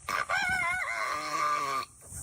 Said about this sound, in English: It sounds like this chicken needs to stop smoking